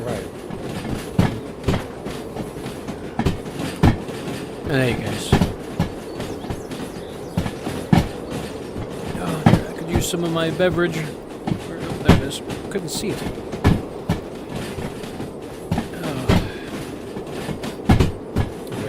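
A train rolling on rails in the Derail Valley video game, steady rumbling with repeated rhythmic clickety-clack beats and brief wheel squeal, while someone talks casually over it.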